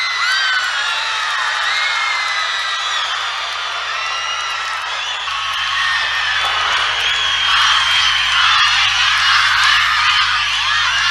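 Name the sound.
crowd of fans cheering and chanting Modi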